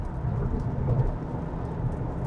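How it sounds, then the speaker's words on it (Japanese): Heavy rain drums on a Toyota GR Yaris RZ High Performance driving at around 100 km/h, a dense, steady wash of rain and road rumble heard from inside the car. "結構雨降ってきたな"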